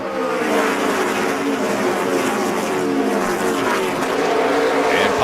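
NASCAR trucks racing at the 2012 Lucas Oil 150, a loud steady roar of several engines at high revs dropping onto the apron through the dogleg, continuous and close.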